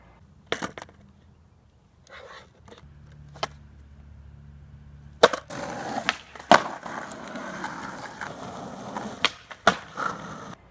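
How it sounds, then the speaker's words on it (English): A skateboard ollie with the tail popped, sharp wooden cracks and clacks standing out against rolling wheel noise, one near the start and several louder snaps and landings in the second half. "An ollie is when you pop the tail of the board and slide your front foot to the nose to propel the board"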